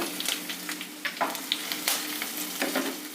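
Cumin seeds sputter in hot oil and ghee alongside mustard seeds, garlic, ginger and curry leaves, a close sizzling hiss with frequent crisp pops and spatters, no talking.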